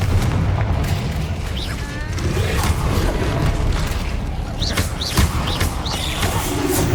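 Spell blasts go off in Hogwarts Legacy as a Confringo fire spell explodes amid repeated booming impacts and whooshing bursts. A voice shouts spell names over the loud, continuous combat noise.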